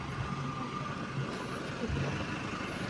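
A vehicle engine runs steadily at a riverside bridge in Davao Oriental, Philippines, a low continuous rumble like an idling truck or bus that sits fairly faint in the background without voices.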